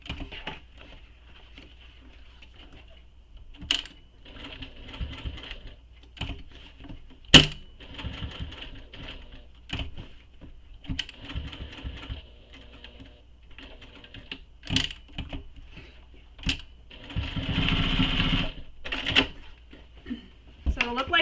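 A sewing machine back-stitches over a bag's connector strip, giving intermittent mechanical clatter in short bursts with a longer, denser run near the end.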